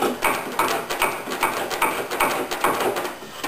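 A cabinet scraper scrapes squeezed-out epoxy off wood in quick, rhythmic strokes about every half second, each a close, loud, dry scrape.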